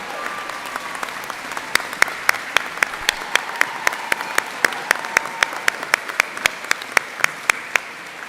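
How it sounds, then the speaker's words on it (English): Steady applause from an audience at a school opening-day event for teachers and staff, with crisp, evenly spaced claps ringing out continuously throughout. "Let's also give a round of applause to our great partner in this venture, the LaFontaine family Automotive."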